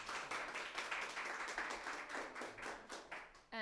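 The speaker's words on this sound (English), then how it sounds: "give him a big round of applause" An audience bursts into applause for a guest speaker at a justice and dissent lecture, dense steady clapping filling the room for a few seconds before dropping off sharply at the end.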